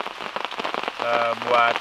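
Heavy rain pattering on a surface in a forest during solo camping in a thunderstorm, a dense steady hiss with droplet impacts, close, with some tonal sounds rising in the second half.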